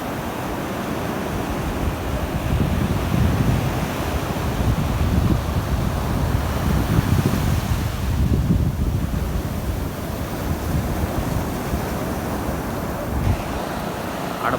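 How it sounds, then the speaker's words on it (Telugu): Gentle ocean waves wash continuously onto Mypadu beach near Nellore, a steady rolling surf with heavy wind rumbling across the microphone and no voices. "ఇటు సైడ్ అలలు తక్కువగానే వస్తున్నాయి"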